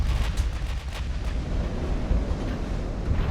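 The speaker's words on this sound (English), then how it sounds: "the secondaries are firing at the destroyers" Heavy naval guns from warships fire in the Ultimate Admiral: Dreadnoughts battle game, including 17-inch main guns and secondary batteries. Dense, continuous booming rumble with repeated thuds, loud and sustained throughout without speech.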